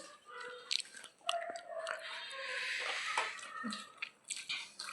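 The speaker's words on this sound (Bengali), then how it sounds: "কি এরকম করে ডাইরেক্ট মাছ ভাজা কামড়ে ফেলছো" Someone bites into fried fish and chews it up close. Soft, wet crunching and biting come in irregular bursts with short pauses between them.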